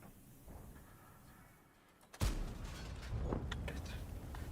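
A tank gun firing in World of Tanks: one sharp, loud boom that then rolls into sustained rumbling noise, standing alone with no talk.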